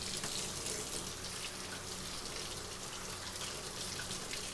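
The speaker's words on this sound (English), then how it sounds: "I'm gonna give this stuff a little rinse so it doesn't all get stuck on" Steady running tap water rinses dishes and a mixing bowl in a kitchen sink, a continuous soft hiss and splash that stays even throughout without any talk.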